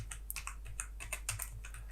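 Steady typing on a computer keyboard while a folder is named in the Unreal Engine 4 editor, a close, even run of light clicking keystrokes with no talk.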